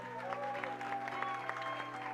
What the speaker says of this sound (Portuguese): Que tal se damos um forte aplauso?